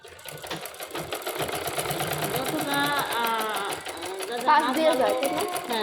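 A spring-less sewing machine runs in continuous bursts while palazzo pants are stitched. It makes a close, whirring mechanical drone, and someone talks over it the whole time.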